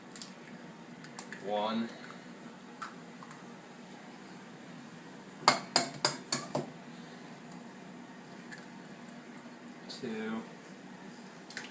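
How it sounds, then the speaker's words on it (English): Eggs being cracked into a bowl one after another, a quick run of sharp taps and cracks near the middle, with a person counting aloud before and after over a quiet room hum. "I'm going to crack 8 eggs into this bowl"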